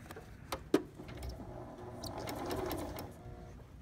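Sewing machine stitching an outside curve, a quiet, close run of rapid mechanical stitching with a couple of sharp clicks near the start, then a steady whirring burst.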